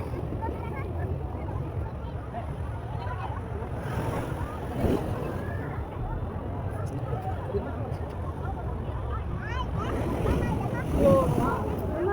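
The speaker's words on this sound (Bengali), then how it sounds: "আশা করি তোমরা বুঝতে পারছো যে কীরকম ঢেউগুলো আসছে" Sea waves wash and break continuously on the beach at Digha, a broad steady roar with wind noise on the microphone, swelling slightly louder near the end.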